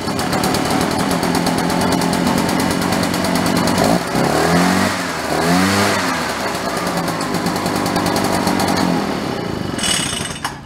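A small two-cycle engine runs loud and close, rattling at idle before revving up to high speed in a couple of rising surges, then settling into a buzzing, fast-running drone.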